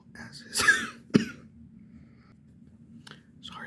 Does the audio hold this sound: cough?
yes